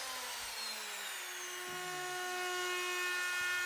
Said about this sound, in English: So I'm using a 3/4 inch roundover bit.